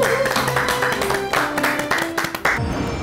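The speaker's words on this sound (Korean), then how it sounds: "큰 박수 부탁드립니다" Clapping from an audience welcoming a speaker at a lecture on Korean cultural heritage: a burst of handclaps over music-like tones, tapering toward the end.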